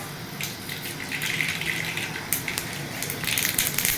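Mustard seeds hit hot oil in a pan for fish curry, giving a quiet, steady sizzle with scattered sharp pops and crackles that grow busier toward the end.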